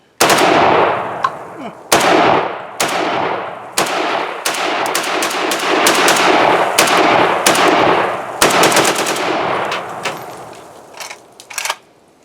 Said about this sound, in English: Alright, Jay, you can shoot the Chinese now.